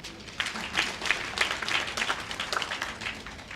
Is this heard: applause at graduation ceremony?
yes